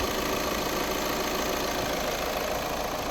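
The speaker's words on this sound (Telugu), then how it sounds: "ఇంజన్ అయితే మాత్రం ఎక్కడ అన్వాంటెడ్ సౌండ్ కావచ్చు ఏమీ రావట్లేదు." A 2018 Volkswagen Vento Highline Plus automatic diesel engine idles with a steady, dense, even rumble, close and loud with no breaks.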